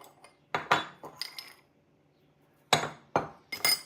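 Panko, salt and pepper mixed in a bowl, heard as bursts of utensil clinks and scrapes against the bowl separated by a quiet pause, close and fairly loud with no speech.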